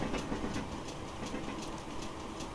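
GWR Manor 4-6-0 steam locomotive idling in Train Simulator Classic, a continuous hissing, rumbling ambience with faint regular clicks, fairly quiet and steady with no voices.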